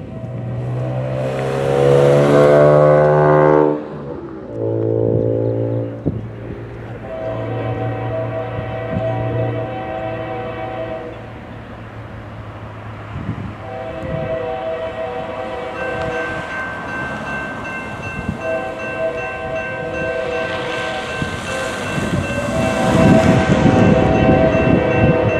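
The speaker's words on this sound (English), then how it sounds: "got Norfolk Southern E49 with a pair of catfish on it. It's like a K5L on the horn. Pretty loud." Norfolk Southern C40-9W locomotive with a K5L air horn sounding loud and close in long blasts as the train passes, with engine roar and rumbling rail cars continuing underneath.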